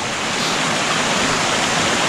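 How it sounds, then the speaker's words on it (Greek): Water rushes steadily over a flooded mountain trail on Lesvos, a loud, even, close hiss of flow with no pauses and no voices. "όλο το μονοπάτι είναι γεμάτο με νερό"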